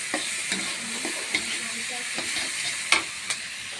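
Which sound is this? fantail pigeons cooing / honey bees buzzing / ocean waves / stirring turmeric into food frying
stirring turmeric into food frying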